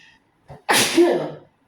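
A single loud sneeze with a sharp intake of breath just before it, close to the mic, then quiet.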